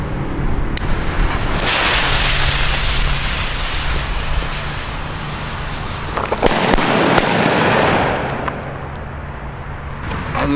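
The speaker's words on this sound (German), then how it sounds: "jetzt machen wir einfach mal hier so einen schönen Kanonenschlag" German Kanonenschlag firecrackers going off outdoors, a loud run of sharp blasts and crackling bursts over several seconds, with a dense rolling barrage that fades toward the end.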